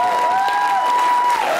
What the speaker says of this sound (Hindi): तालियां माहिरा जी के लिए।